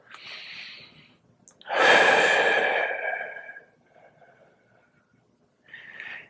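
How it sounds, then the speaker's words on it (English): Slow, deep breaths taken while holding a side-lying hip 90/90 stretch with thoracic rotation: a faint breath, then a long loud exhale lasting over a second, and a short breath at the end, close to the mic with no talk. "we're just going to take a few breaths"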